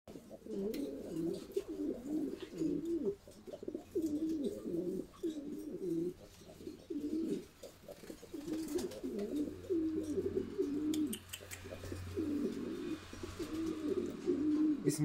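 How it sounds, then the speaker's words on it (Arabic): Sevillanos pigeons coo in repeated low, throaty rolling phrases close by, steady and overlapping for the whole stretch, with faint background rustle and no talking. "كيف ما كتشوفوا معنا شنيفير ديال حمام السيفيانوس"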